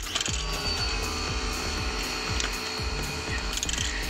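A ratchet clicks rapidly in repeated bursts while undoing the nut of the earth cable on an Audi TT MK1 Quattro during a clutch change, with a close, rhythmic metallic pawl ticking throughout.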